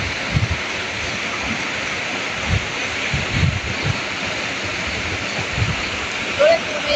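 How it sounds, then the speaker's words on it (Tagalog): Steady rushing roar of Magkawas Falls, a waterfall in Surigao del Sur, Philippines, heard up close and continuous, with occasional low thumps and faint voices under the water noise. "Welcome to Magkawas Falls."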